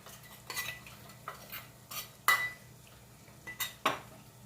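A spoon stirs spice powders into fish curry in a metal pan, making repeated scraping and clanking strokes in an irregular rhythm, close and clear, with only a faint sizzle beneath.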